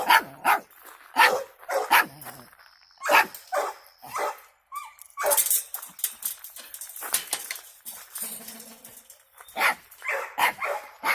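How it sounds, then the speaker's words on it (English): A friendly dog barks repeatedly in loud, irregular bursts on a rural property, with occasional yips and whimpers between the barks and no talk over them. "Not sure why he's barking so much."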